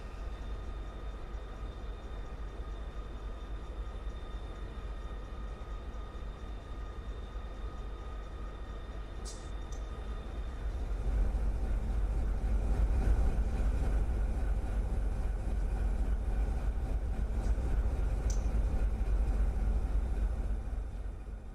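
Air being cut into the brake line of railcars in the Run8 train simulator brings a steady low rumble and rushing hiss that grows fuller and louder midway, with a few faint high clicks and no talking.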